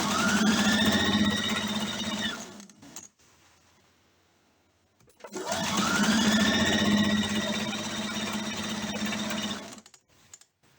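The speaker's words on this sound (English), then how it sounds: "And then sew." A sewing machine stitches a quilt block in two long, steady bursts of rapid needle whirring, close and loud, separated by a couple of seconds of near silence.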